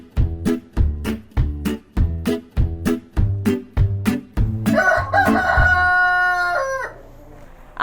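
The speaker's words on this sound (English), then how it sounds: "These roosters are waiting to make your acquaintance at the Wenatchee Valley Humane Society." White leghorn mix roosters at the Wenatchee Valley Humane Society: rapid rhythmic clucking pulses close by, then a loud, drawn-out cock-a-doodle-doo crow that trails off.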